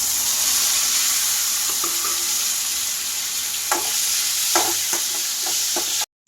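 Onions sautéing in a pan give a constant loud, close sizzle with a few sharp scrapes and taps of a spoon near the end, and no voices, before cutting off abruptly.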